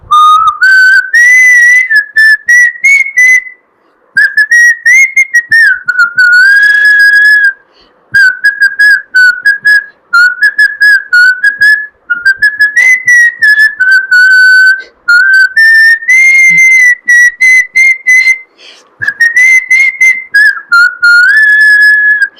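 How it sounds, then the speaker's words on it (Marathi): A person whistles a song melody solo and close, loud clear tones in phrases separated by short breaths and pauses over about twenty seconds, with no talking. "मी शिट्टीतून गाणं म्हणून दाखवणार, ते गाणं कुठलं आहे आम्हाला आवर्जून सांगा"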